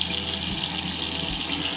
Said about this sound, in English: You can see we have good aeration coming from the center spout, and a good clean spray with the handle here and the other bit.